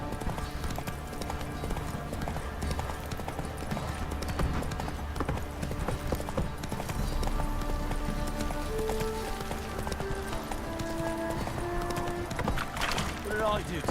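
Steady clip-clop of horse hooves trotting continuously in The Witcher 3 video game, over a dense ambient backdrop, with occasional faint tones layered in.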